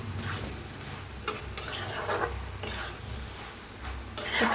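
A spoon stirs cabbage and potato sabzi with fresh coriander in a pan, giving soft scraping strokes and a few sharper clinks against the metal, with faint sizzling underneath and no talk.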